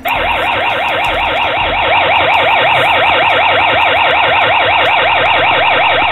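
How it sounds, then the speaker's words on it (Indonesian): A loud, continuous wailing process alarm and local horn at an oil and gas facility cycles rapidly up and down in pitch, steady and unbroken throughout, like an industrial siren. "Proses alarm dan local horn."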